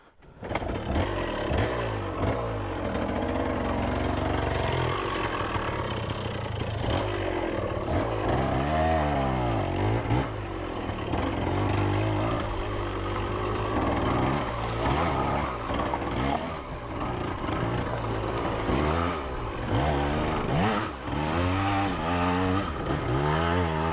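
1978 Yamaha DT175 trials motorcycle ridden at low speed over bumpy ground, its two-stroke engine buzzing continuously and rising and falling with the throttle, close and steady.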